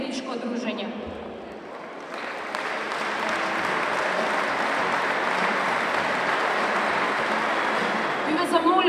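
Applause at a political rally of the Coalition for Positive Macedonia, greeting the Metalurg handball players, sustained and loud from a large crowd. A voice speaks briefly at the start, then the clapping swells and holds.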